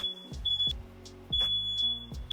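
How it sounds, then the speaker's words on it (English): A smoke alarm beeping in repeated shrill tones, set off while baking pizza, with low thuds and clatter in between. "they both set off my smoke detector"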